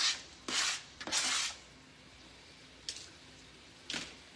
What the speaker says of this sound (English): I'm going to now put in some diced tomatoes